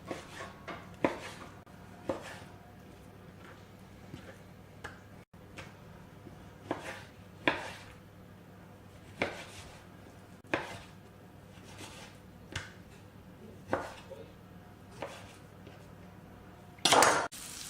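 A knife chops chicken fillets into smaller portions on a board, giving sparse, separate cuts at irregular intervals, fairly close, over a quiet kitchen background with a brief clatter near the end.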